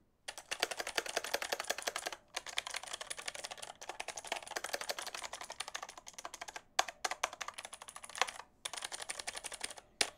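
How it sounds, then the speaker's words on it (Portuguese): Rapid clacky keystrokes from a mechanical keyboard, typed in bursts with short pauses between runs, close up and crisp, picked up by a Razer Seiren Mini microphone. "o quanto que ele capta dos barulhos das teclas de um teclado, um teclado mecânico"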